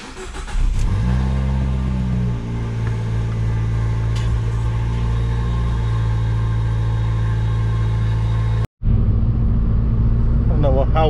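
Fiat 500t with a new ATM cold air intake and a two-inch drop, its engine idling and revving in a steady mid-pitched drone with a brief rev near the start, then a sudden cut and a voice.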